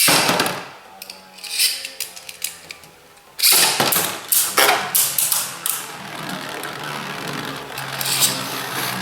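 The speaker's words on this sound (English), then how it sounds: "So as you guys can see, the bays are battling." Beyblade Burst tops from an Evolution Star Storm battle set are launched and clash in a plastic stadium, producing a dense, rapid run of sharp clicks, scrapes and knocks that continues loud and close after a brief quieter lead-in.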